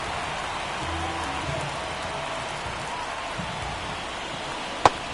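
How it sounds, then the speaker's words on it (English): Steady rain falling on a baseball field in an MLB The Show video game, a broad even hiss throughout with one sharp knock near the end, no talking. "the field's not going to be able to hold up if the rain gets any worse than this"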